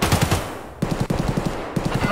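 Rapid automatic gunfire from the shooter game Escape from Tarkov crackles in quick bursts, loud and close, with short pauses between volleys.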